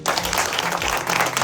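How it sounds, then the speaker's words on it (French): Audience at a town inauguration ceremony breaking into brief, dense applause, a steady wash of many hands clapping close and fairly loud. "J'aimerais qu'on l'applaudisse."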